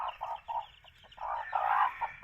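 A mother hen keeps her young chicks close in a backyard, giving a run of soft, rhythmic clucks with short pauses between them. The clucking comes from nearby at a low level.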